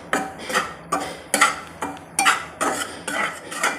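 A spoon scrapes and stirs roasted amaranth flour in ghee in a pan, steady rhythmic strokes about twice a second, each a close metallic scrape, with no voice over them.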